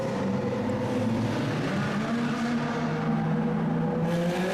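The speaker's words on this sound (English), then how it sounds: "Epic convoy through the Monaco tunnels with some insanely loud supercars, and this Aventador just flamed consistently" Supercars, including a Lamborghini Aventador, drone steadily in a convoy through the Monaco tunnels, their loud engines blending into one dense, continuous rumble.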